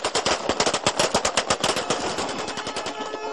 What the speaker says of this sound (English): these men who filled the streets of Sirte with celebratory gunfire